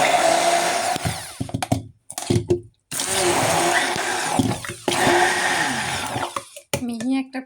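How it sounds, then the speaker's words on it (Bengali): A kitchen blender grinds cut mango into paste in loud whirring bursts that stop and restart several times, with short silences between runs. "এখন আমি এটাকে ভালো করে ব্লেন্ডার করে নিব।"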